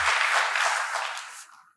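An audience applauds after a student answers a question at a talk on harnessing mind power, steady broadband clapping that holds for over a second and then fades out.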